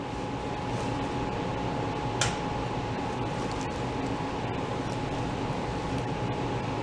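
A steady broadband whoosh of a heater blowing air runs throughout, with a faint hum and one brief click partway through.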